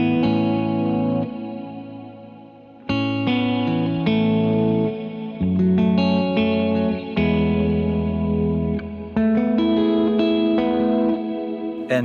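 Electric guitar chords ring out through a large reverb pedal, big and washy, each strum blooming and sustaining into a long, shimmering tail.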